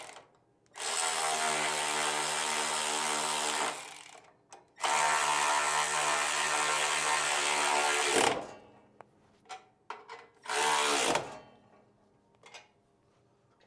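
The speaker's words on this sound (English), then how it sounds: "We'll use a 1/2-inch wrench to tighten these up." A half-inch wrench tightens the mount bolts on a Wright ZXL 61-inch mower, running in two long, steady mechanical bursts followed by a few short choppy spurts, close and fairly loud with no talk.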